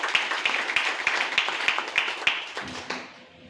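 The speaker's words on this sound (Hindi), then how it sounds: "एक जबरदस्त ताली के।" Sharp rhythmic clapping at a business plan meeting, roughly eight evenly spaced loud claps over a wash of crowd applause, fading out near the end.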